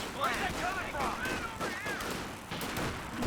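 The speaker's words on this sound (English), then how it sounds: "The rifleman getting beamed down by the Grenadiers" Distant rifle fire from Grenadiers hitting riflemen in Company of Heroes 2, a steady patter of shots beneath a commentator's continuous voice.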